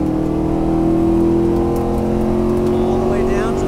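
Race car accelerating hard on a track, its loud engine tone climbing steadily from up close, with a voice talking over it.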